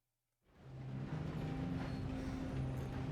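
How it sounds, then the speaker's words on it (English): A train rolls past in the video game Red Dead Redemption 2, a steady loud rumble rising suddenly from silence and holding with a low droning tone, no talk over it. "Train!"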